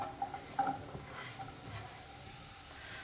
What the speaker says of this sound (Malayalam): ഇതിലേക്ക് നമുക്ക് 1 ടേബിൾ സ്പൂൺ വെളിച്ചെണ്ണ ഒഴിച്ചു കൊടുക്കാം. ചെറിയുള്ളി മുറിച്ചത് ഇതിലേക്ക് ഇട്ട് കൊടുക്കാം.